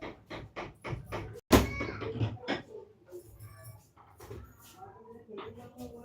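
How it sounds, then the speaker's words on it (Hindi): A rapid run of sharp, close knocks is heard at the start, about half a dozen raps in quick succession, and then people speak over quiet room sound. "अरे इतना मत खटखटाओ"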